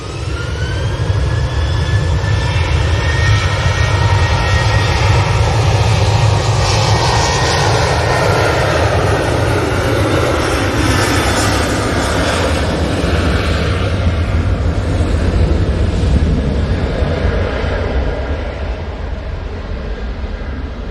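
Jet engines of a TUI Fly airliner with Pratt & Whitney engines at Manchester Airport roar loudly and steadily throughout, a broad continuous rumble with rising whine tones as the aircraft passes nearby.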